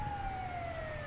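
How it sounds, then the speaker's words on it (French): An ambulance siren wails in a single long, slowly falling tone, steady and fairly prominent over low traffic rumble, with no speech. "Ambulance!"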